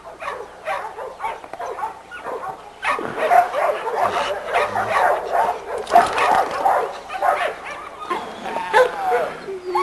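Yard of kennelled dogs, a brood bitch among them, barking, yipping and whimpering in overlapping bursts, several animals near and farther off, with someone talking over the din.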